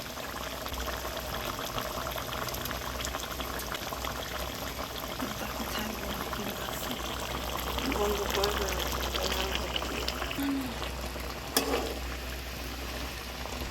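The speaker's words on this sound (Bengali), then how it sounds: "এখন আমি মাছগুলো একে একে ছেড়ে দিচ্ছি।" Pieces of chital fish lowered one by one into a simmering curry in a home kitchen, a soft continuous bubbling sizzle with a few gentle splashes midway, a voice faintly present over it.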